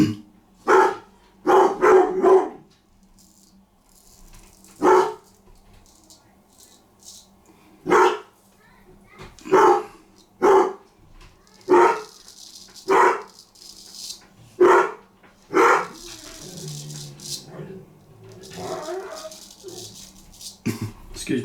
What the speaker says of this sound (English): He loves a good bark at the door.